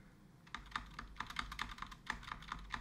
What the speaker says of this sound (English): you can test this out by using your keyboard, by touching your keys gently